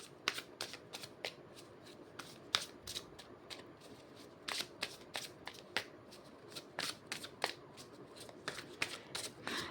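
Tarot cards riffled and shuffled close by in quick repeated bursts of crisp flicking and slapping, each lasting a moment with short pauses between, and no voice over them.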